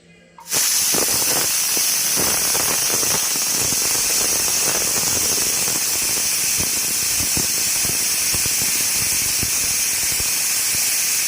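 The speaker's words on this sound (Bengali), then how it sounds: "এবার প্রেশার কুকারটা এবার দমে বসিয়ে দেবো একটা থেকে দুটো মতন সিটি দেবো" Pressure cooker on the stove cooking mutton, starting abruptly into a loud, steady high-pitched jet of hissing steam with faint sputtering underneath, sustained and close for about eleven seconds.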